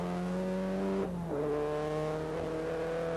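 Ford Sierra production racing cars at a 1988 championship round lapping slower Suzukis, one engine note holding high then dropping and climbing again as it shifts, moderately near, no talking.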